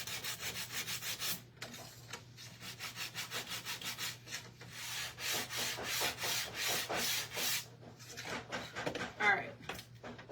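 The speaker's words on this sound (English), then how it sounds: "we're going to sand this one" Hand sanding a wooden Snoopy scarecrow, with rhythmic back-and-forth rubbing strokes in repeated bursts, close and fairly quiet, under a faint steady hum.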